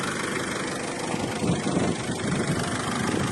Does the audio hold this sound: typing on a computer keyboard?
no